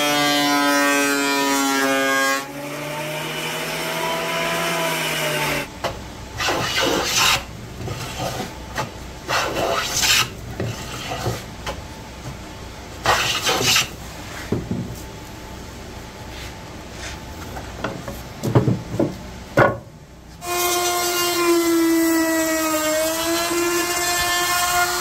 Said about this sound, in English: So I'm just going to run it through the electric planer so I can get it done rather than do it by hand.